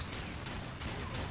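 Gunfire in the video game Darksiders 2: a dense, continuous barrage of loud shots that surges in several bursts over a little more than a second, with no voices.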